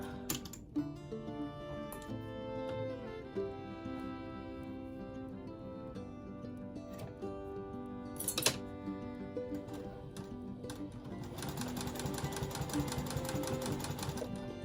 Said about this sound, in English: So I'm sewing this about 1/8 of an inch on both sides of the triangle onto this fabric sleeve.